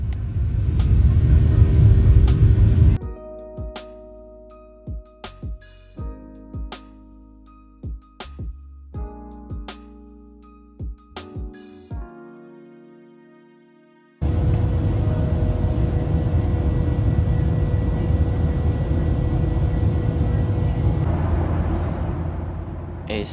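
A Southwest Airlines jet climbing out of Louisville, heard from inside the cabin as a loud, steady engine roar. It breaks off into quieter stretches with sharp clicks and clunks, then the dense roar returns and holds. Nobody talks.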